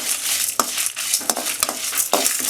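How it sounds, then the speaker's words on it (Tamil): Black pepper, cumin, fenugreek and dried red chillies dry-roasting in a pan, with continuous gritty rustling and scraping as the spices are stirred, punctuated by several sharper clicks of a spoon against the pan. "1/2 ஸ்பூன் மிளகு, 1/2 ஸ்பூன் சீரகம், 1/4 ஸ்பூன் வெந்தயம், ஒரு 7 காஞ்ச மிளகாய் சேர்த்துக்கலாம். இதையும் நல்லா வறுத்துக்கலாம்."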